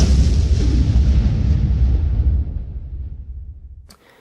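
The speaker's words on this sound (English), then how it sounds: "There was a loud explosion." A loud explosion rumbles with a deep, sustained roar that slowly fades and ends abruptly.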